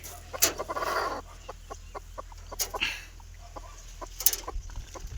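Hens cluck in short, uneven bursts close by, with a few sharper squawks and scratchy rustling between calls.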